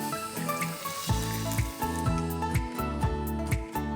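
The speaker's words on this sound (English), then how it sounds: "I'm going to fry the rest of the mac and cheese balls in the same way." Mac and cheese balls deep-fry in hot oil, giving a steady close bubbling sizzle with many crackling pops and a few soft clinks near the pan.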